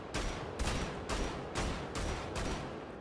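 Shotgun fire in Wolfenstein, six loud evenly spaced blasts about half a second apart, each a sharp broadband crack with a short booming tail, no voices over them.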